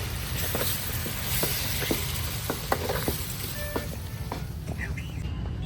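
Tomatoes go into mutton frying in its own fat for a mutton charu, giving a steady, close sizzle with scattered stirring clicks and faint voices underneath.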